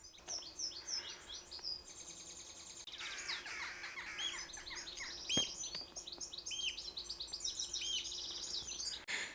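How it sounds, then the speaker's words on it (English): Several birds singing and chirping nearby along a quiet, narrow country lane in Cumbria, overlapping quick trills and tweets over a faint outdoor hush. "there's plenty of bird life. Can you hear that?"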